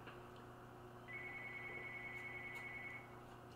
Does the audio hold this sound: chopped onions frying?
no